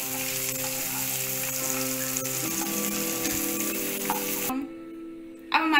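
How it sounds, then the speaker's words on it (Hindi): Paneer pieces fry in oil until lightly browned, a loud, continuous close sizzle that drops away sharply near the end. Nobody speaks. "इस तरह पनीर को हम हल्का भूरा होने तक थोड़ा सा ब्राउन कर लेंगे, हल्का ब्राउन।"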